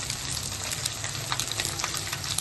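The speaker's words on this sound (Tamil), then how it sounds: "இந்த வெங்காயம் வதக்கிறதுக்கு கொண்டு கொஞ்சமா உப்பு போட்டுக்கலாம்" Shallots and onions sautéing in a pan with a little salt for a Chennai-style fish curry, giving a steady, close, even sizzle with soft crackles and no voices.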